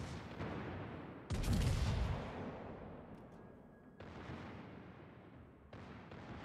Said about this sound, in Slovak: tie sekundárky sú úplne šialenosť na tejto lodi